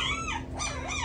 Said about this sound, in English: Barking for Maisy?